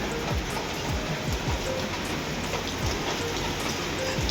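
Steady rain pours down without pause, a dense close-up hiss of drops hitting surfaces, with no voices.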